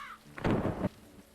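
Thunder and rain in the video game ZED ZONE: a brief, loud rumbling thunder burst rises out of a soft rain backdrop and cuts off abruptly.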